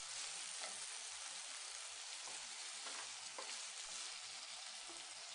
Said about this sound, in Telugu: బంగాళాదుంప ముక్కలను వేసి పచ్చిమిరపకాయలను కూడా వేసి ఒకసారి బాగా కలుపుకోవాలి